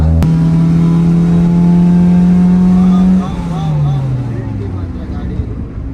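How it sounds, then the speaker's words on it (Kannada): A red Ferrari launches in first gear on a Bengaluru street, its engine holding a loud, steady rising drone before the revs drop and the pitch falls away as the car pulls off. "ಫಸ್ಟ್ ಗೇರಲ್ಲಿ ಲಾಂಚ್ ಮಾಡ್ತೀನಿ ನೋಡಿ ಇವಾಗ"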